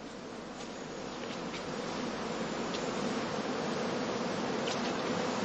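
Honeybees swarm around heather skeps in an autumn heathland apiary, a steady soft buzzing drone that builds slightly and holds, with a few sharper passing hums.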